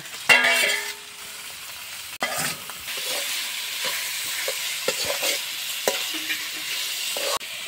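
Meat frying in a pan at home with turmeric and spices, a steady close sizzle after an initial loud splash, broken by occasional spoon scrapes and clinks.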